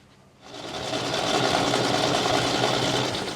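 An MGB engine cranks over on the starter, a steady loud whirring churn that kicks in abruptly and keeps spinning without firing, close and with no talk.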